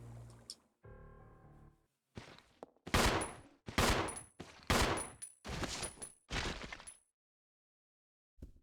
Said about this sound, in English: We're gonna have to do some shooting.